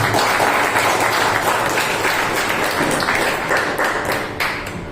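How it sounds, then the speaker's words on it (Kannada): Dense, loud applause from a concert audience at a music school welcoming flutist H.S. Venugopal, sustained throughout and tapering slightly at the end. "ದೊಡ್ಡ ಚಪ್ಪಾಳೆ ಸ್ವಾಗತ."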